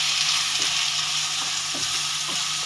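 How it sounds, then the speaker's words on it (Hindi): Chopped medium onions hit hot oil in a home kitchen, giving a steady close hiss of frying with a few soft scrapes of stirring, and no voices. "गरम ऑयल में हम प्याज डाल देंगे"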